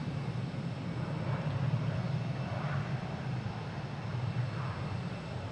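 A Delta Airbus A330-900 at Boston Logan airport gives a steady, distant jet roar, a low broadband rumble that holds evenly throughout with no talk.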